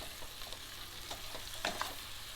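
Bone-in veal sears in oil inside a cocotte, a quiet steady sizzle with soft scraping as the meat is nudged, plus a couple of brief clinks near the end, no talk.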